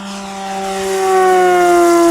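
A Yak-11 RC model airplane passes overhead outdoors, its engine a steady high whine with strong tonal harmonics that grows louder as it approaches over about two seconds.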